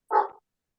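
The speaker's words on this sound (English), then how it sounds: "we know that Jonathan's 2 barks for yes and 1 bark for no" A single short dog bark, close and fairly loud, standing alone against silence.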